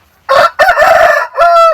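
A farm rooster crows loudly and close, one full cock-a-doodle-doo in two bursts followed by a shorter trailing call.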